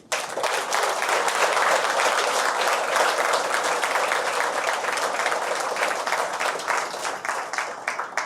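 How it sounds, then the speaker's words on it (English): An audience at a large AI hackathon in Bengaluru claps together, a loud, dense and sustained burst of applause that fills the room and carries on without a break. "I want you all to stand up and clap for yourself."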